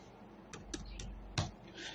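Computer keyboard keys being typed while laying out a book cover, heard as a handful of sharp, separate clicks spaced irregularly over a steady room hum, with one louder keystroke near the middle.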